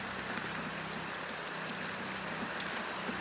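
Slow, steady rain falls on a cow shelter, a faint continuous patter and hiss with scattered droplet ticks, even throughout with no voices.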